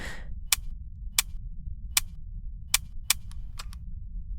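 A taser being triggered but failing as a dud, giving several sharp, dry clicks spaced irregularly over a low steady hum, close and fairly loud with no voices.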